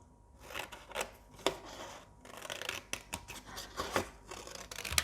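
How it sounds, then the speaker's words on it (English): Scissors snipping paper into small pieces: a close, crisp series of sharp cutting clicks at an irregular rhythm, fairly quiet, with no voices. "you open and slowly close scissors and you"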